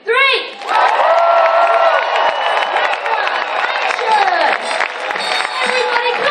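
Audience on the Oasis of the Seas cruise ship at the Love and Marriage show erupting into loud cheering, whoops and applause after a countdown, a sustained roar of clapping and shouting voices close by.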